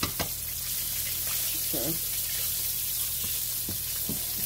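Mini chops fry in a pan with a steady, bright sizzle that fills the whole stretch, broken by a few clicks and scrapes from handling, while a voice says a word briefly.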